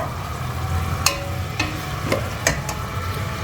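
Thin slices of a large tomato cook in a pan, a close, steady sizzle punctuated by several sharp clicks and taps of utensils against the pan, with no talking.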